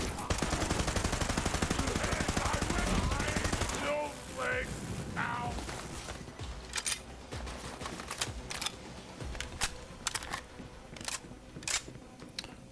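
Rapid pistol gunfire in Borderlands 3 rattles close and loud over a dense game mix at first, then gives way to scattered sharp single shots with gaps between them.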